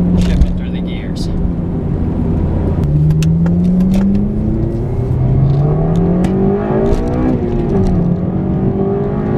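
A 2007 Honda Civic Si with a manual transmission revs steadily from inside the cabin, engine pitch climbing and dropping as it shifts through the gears, with someone talking over the engine note throughout.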